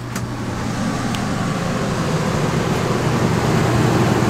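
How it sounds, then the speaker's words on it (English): An RV rooftop air conditioner fan running on low gives a steady, even whoosh with a low hum, continuous and close, with no voices. "I'm going to go ahead and put the fan on low."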